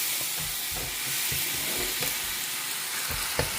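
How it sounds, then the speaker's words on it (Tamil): Onions and soaked prawns fry in a pan with a dense, loud, continuous sizzle and hiss, plus a few stirring knocks near the end; nobody speaks. "இது நல்லா வதங்கணும் இந்த ஊற வச்சுருந்த இறாலு போட்டாச்சு"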